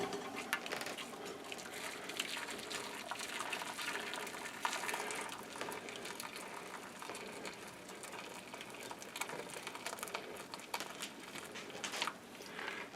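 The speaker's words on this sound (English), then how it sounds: "now we'll carefully pour in our boiling water." Boiling water is poured steadily into a large baking dish around a custard set in the oven, a continuous near splashing and trickling stream that runs throughout with no speech.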